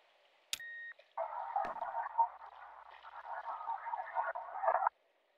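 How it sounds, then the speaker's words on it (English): Frogs croaking in the game Kentucky Route Zero: a sharp click and short tone give way to a steady, buzzing chorus of croaks lasting several seconds before cutting off abruptly. "Frogs are too loud."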